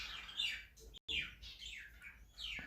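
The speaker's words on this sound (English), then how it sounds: "Yes, and the birds are at it again." Birds in the Australian outback at night chirp in quick bursts of high, descending calls, faint and somewhat distant against quiet background hiss, with a brief dropout partway through.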